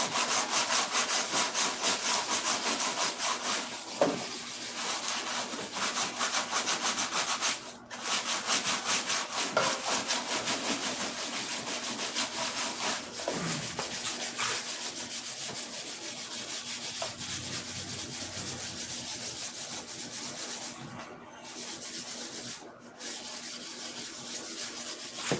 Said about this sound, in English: It'll be smooth after rubbing it with this steel wool.